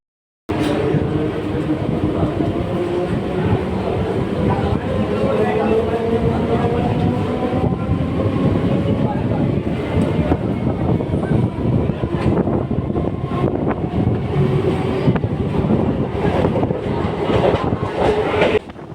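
Sealdah–Namkhana local train running on rails, a loud continuous rumble with rhythmic clickety-clack of wheels over track joints and a hum of motors, heard from inside the carriage for the whole stretch.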